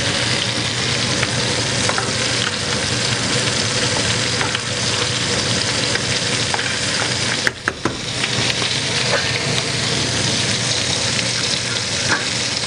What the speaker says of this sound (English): Fish is looking nice. I'm gonna move the pan around.